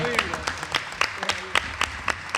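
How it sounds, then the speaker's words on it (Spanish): Clapping at a university lunch gathering honoring a guest, a scattered, uneven patter of hands from a small group with voices murmuring underneath. "Aplauso por el compañero"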